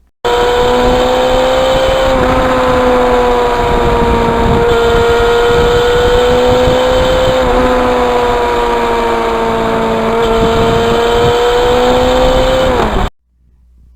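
A loud, droning Yamaha FZR 1000 motorcycle engine roar with loud mufflers holds steady for several seconds, close to the listener, then cuts off abruptly.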